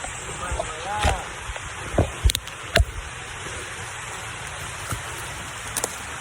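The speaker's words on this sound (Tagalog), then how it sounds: "maulan nga lang guys, maulan o umuulan" Steady hiss of rain falling all around, broken by a few sharp nearby clicks and taps.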